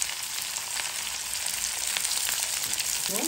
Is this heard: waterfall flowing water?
no